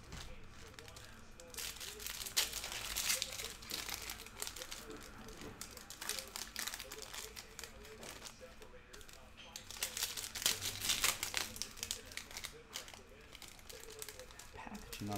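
Flimsy plastic wrapping on a 2020-21 Panini Donruss Optic Fast Break basketball card box crinkles and crackles close up in irregular bursts, with a person talking over it throughout.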